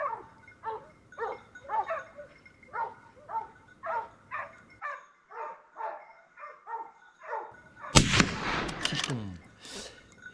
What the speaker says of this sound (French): on entend bien la balle toucher grâce au modérateur